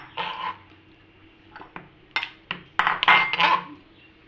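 Chopped prawns are moved into a bowl, giving scattered clinks and scrapes of a utensil against dishware, close and fairly sharp, in uneven bursts with no talking.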